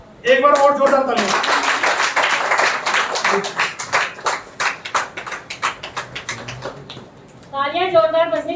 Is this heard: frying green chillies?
no